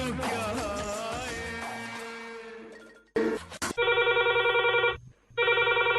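A telephone rings in two long electronic bursts with a short gap, loud and close, following a fading song with music.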